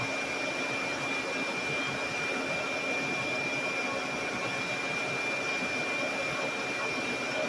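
A tool post grinder works a steel shaft held in a lathe, sparking out with a steady high-pitched whine and dense grinding hiss, continuous and moderately loud with no talk.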